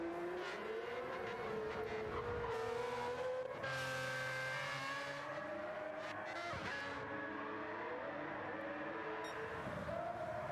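Open-wheel race cars in a sim racing game, a loud sustained engine whine climbing and dropping in pitch through gear changes, with other cars passing and brief bursts of tire noise.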